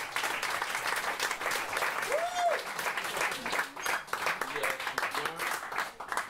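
An audience at a French song showcase evening claps warmly in a steady, dense burst of applause that lasts throughout, with a voice speaking over the crowd.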